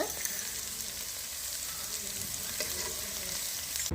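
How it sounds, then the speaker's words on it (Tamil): Fenugreek seeds, mustard seeds and asafoetida crackle and sizzle steadily in a hot pan, a close, even frying sound with light stirring throughout. "இதில் வெந்தயம், கடுகு, பெருங்காயம் இதை ஒரு அடி அடிச்சுக்கிறலாங்க."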